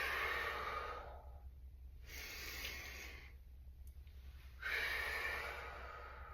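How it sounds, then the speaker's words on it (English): Three or four slow, audible breaths cycle in and out, long hissing inhales and exhales, during a front squat with a ball squeeze, close and quiet against a faint steady hum. "you want to inhale as you lower and exhale as you come up"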